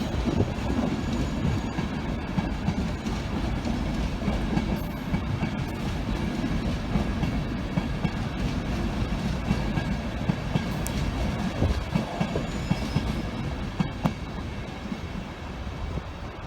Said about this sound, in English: This one's now departing for Leeds.